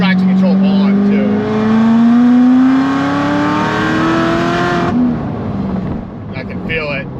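A manual Chevrolet Corvette C7 Z06 accelerates hard, its engine note climbing steadily through a long pull before a shift and a drop to lower revs, loud and close from inside the car with traction control engaged.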